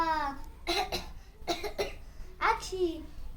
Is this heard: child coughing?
yes